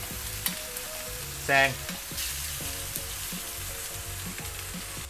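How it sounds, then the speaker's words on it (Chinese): Chicken pieces for a braised chicken with apples and spinach fry in a pan with a steady, even sizzle. A short burst of stirring or scraping cuts in near the start, and one brief spoken word is heard. "我哋再煎多佢四分鐘到嘅"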